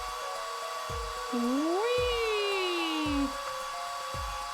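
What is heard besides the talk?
hairdryer blowing on plaster in a video game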